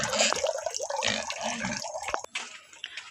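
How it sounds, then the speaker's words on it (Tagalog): Tap water gushing into a sink while food for kinilaw is prepared, a steady splashing wash that stays loud throughout with some clatter and fades slightly near the end. "Agas na yung tubig guys."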